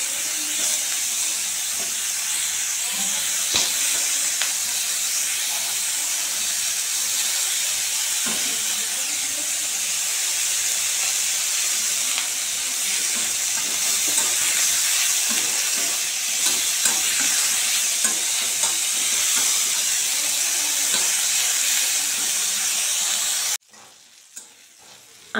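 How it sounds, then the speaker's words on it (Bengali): Cauliflower florets fry with salt and turmeric in a pan over low heat, giving a continuous close sizzle with occasional stirring scrapes for over twenty seconds before it cuts off abruptly. "একটু হলুদ দিয়ে হালকা আঁচে ভালো করে এগুলোকে নাড়িয়ে চাড়িয়ে ভেজে নেব"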